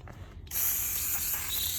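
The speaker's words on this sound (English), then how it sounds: "make sure you take brakes parts cleaner and spray it down real good to get all the grease that comes on factory off of it" Brake parts cleaner sprayed onto new brake rotors for a 2013-2017 Honda Accord, a sudden close aerosol hiss that starts after a brief quiet moment and holds steady and loud to the end.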